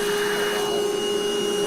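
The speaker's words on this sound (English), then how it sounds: "Let's vacuum it up." A vacuum cleaner sucking up olivine and peridot debris at a gemstone dig, a loud, steady whine with a constant high tone that runs unbroken throughout.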